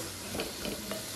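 Onion sautéing in a pan on the stove, a steady soft sizzle with a few faint scraping stirs, close but quiet, no voices.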